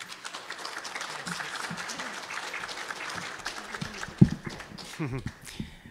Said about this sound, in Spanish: Le recibimos con un fuerte aplauso.